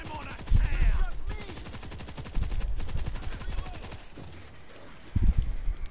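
Sustained light machine gun fire in the World War Z video game, a rapid rhythmic burst of shots running steadily through the moment with a few louder impacts, loud and close.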